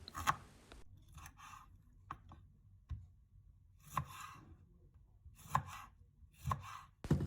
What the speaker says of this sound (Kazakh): Жуамызды да әдемілеп тұрып турап шығамыз.